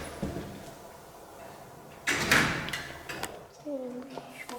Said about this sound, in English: That sounded like a door.